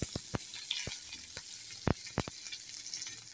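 Finely chopped onions hit hot oil already tempered with nigella seeds, giving a steady close-up sizzle broken by sharp, scattered pops and crackles, with no voices.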